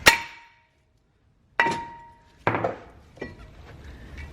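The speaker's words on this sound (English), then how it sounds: "sometimes you have to use a hammer to get it off" A hammer strikes a rusted front brake caliper carrier on a Toyota Camry Hybrid: three or four sharp, ringing metallic clangs spaced irregularly, each with a brief resonant tail, the later hits duller.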